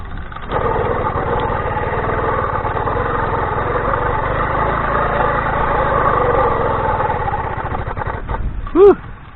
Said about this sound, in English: Hey, I got it to fire.